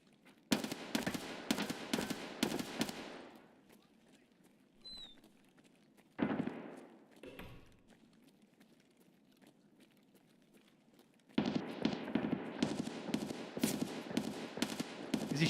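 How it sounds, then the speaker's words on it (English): Rapid automatic rifle fire from an AK-12 in Escape From Tarkov, loud bursts of closely spaced shots opening and closing the stretch, with a single sharp burst and quieter gaps between them. "Is he shooting an AK-12?"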